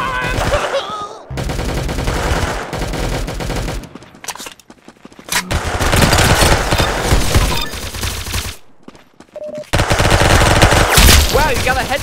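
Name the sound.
gunfire in a shooting video game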